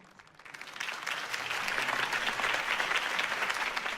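Applause from a campaign-rally crowd in the Batman Telltale game swells from quiet to a full, steady clapping that lasts several seconds with no talking over it.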